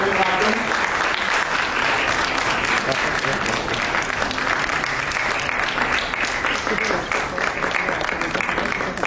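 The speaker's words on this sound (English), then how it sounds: "A huge round of applause as the cake ceremony happens." Loud, sustained applause from a crowd during a cake ceremony at an Institute of Actuaries of India event, dense clapping that continues steadily throughout.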